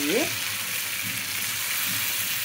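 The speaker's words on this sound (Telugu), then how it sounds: "ఇప్పుడు ఈ వంకాయ గుజ్జు వేసేయాలన్నమాట." Roasted brinjal pulp goes into a pan of softened frying tomatoes, with a steady loud sizzle and a short stirring scrape at the start, then continuous frying hiss.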